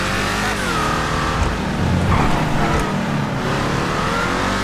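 Ruiner ZZ-8 sports car in a video game, its engine revving with rising and falling pitch as it accelerates and shifts, loud and close, with a brief tyre scrub midway.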